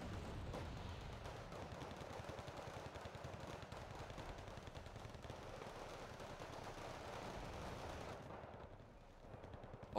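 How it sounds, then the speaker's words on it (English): Mortar fire in the video game Wargame Red Dragon: a continuous, fairly faint rumble of repeated distant blasts pounding away, fading out near the end. "the mortar's just going to be pounding away"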